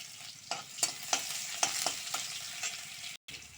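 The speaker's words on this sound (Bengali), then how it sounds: "দেখো তেলটা গরম হয়ে গেছে এবার আমার পেঁয়াজ কিছুটা দিয়ে দিয়েছি" Onions sizzle in hot oil in a pan while cooking taro greens, a steady close frying hiss broken by regular scraping stirs and ladle taps.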